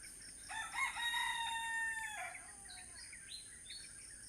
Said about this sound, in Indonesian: itulah ayam keluar tuh bekokok terus